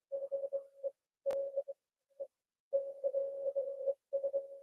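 Morse code keyed by hand on a straight key during an amateur radio straight key night: a steady single-pitch tone broken into dots and dashes in uneven bursts with short gaps, fairly clear, plus one sharp click midway.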